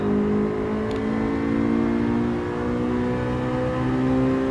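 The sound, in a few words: Honda Civic SiR engine at full throttle, Gran Turismo 7 video game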